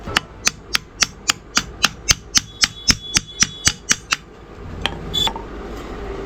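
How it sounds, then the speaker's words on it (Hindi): Hammer strikes setting aluminium rivets into a ceiling fan's board, about fifteen sharp metallic blows in a steady, fast rhythm, close and loud, followed by a few scattered handling clinks. "इसलिए आपको इस तरह के कुछ रिपीट लेने होंगे और इसको ठोक लेनी होगी।"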